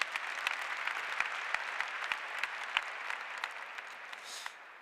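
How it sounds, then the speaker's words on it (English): An audience applauds at a talk about race in churches, a dense wash of clapping hands with some louder individual claps, steady and then tapering off toward the end. "Give yourselves a round of applause."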